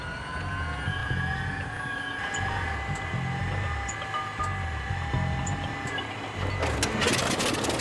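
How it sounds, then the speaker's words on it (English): A cold World War II-era aircraft engine cranks and struggles to start, a loud, steady rumbling drone with rough bursts and crackling toward the end, no speech over it. "As with many World War II-era aircraft, starting the engine cold is a haphazard and messy affair"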